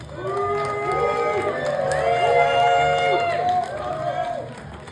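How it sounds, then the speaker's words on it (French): Diners at a shared meal cheering and shouting for the green team, a loud sustained crowd roar with overlapping voices rising then easing off. "je vais vous demander de les applaudir"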